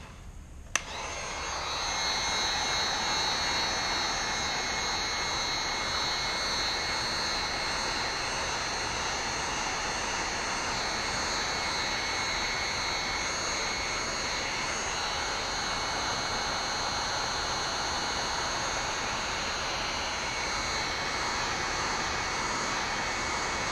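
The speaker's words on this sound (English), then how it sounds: "We're going to get our heat gun out." A heat gun blows hot air over a boat keel guard, a steady, loud blowing roar that runs continuously, a constant airy whine with no pauses and no voices.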